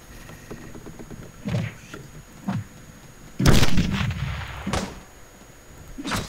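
Several sharp gunshots ring out at irregular intervals, one especially loud blast in the middle, over a low rumbling soundscape in the video game Teleglitch.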